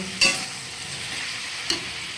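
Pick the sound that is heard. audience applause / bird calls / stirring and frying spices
stirring and frying spices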